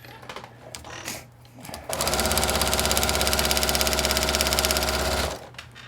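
Sewing machine stitching along an inked paper-piecing line, a few handling clicks first, then a loud, close, steady rapid-fire run of stitches for about three and a half seconds before stopping.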